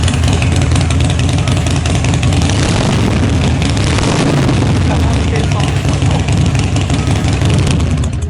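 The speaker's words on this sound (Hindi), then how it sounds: "दोस्तों इसके अंदर 1200 सीसी का इंजन लगा है।" A 1200cc Harley-Davidson motorcycle engine starts and roars loudly and continuously, a deep throaty rumble filling the whole clip.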